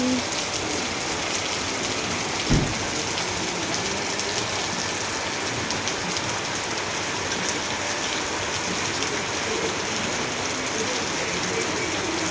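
Continuous rain hisses evenly throughout, with a single brief knock early on and otherwise no other sounds.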